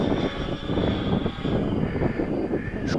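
Propeller aircraft engine held at open throttle through a roll, a steady close droning roar with slight swells in pitch and level, running alone without talk.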